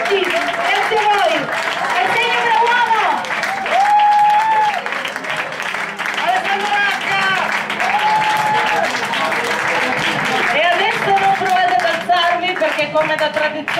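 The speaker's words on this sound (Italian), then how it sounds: "Un applauso a tutti." An audience at a team poetry slam in a local venue claps and applauds steadily, with voices calling out and talking over the sustained clapping.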